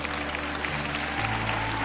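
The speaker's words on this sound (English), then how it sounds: "somebody ought to clap on that." An audience at a motivational talk gives a short round of clapping, dense and steady under a low hum for about two seconds.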